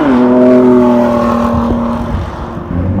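A 2017 Ford GT engine revving, loud and close, with a strong droning tone that rises and then settles, followed by a lower rumble as it eases off.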